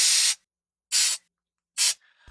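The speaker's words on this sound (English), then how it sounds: "here's an example of a recording of a compressed air canister" Compressed air canister spraying in three separate short hissing bursts, each under half a second, loud and close with silence between them.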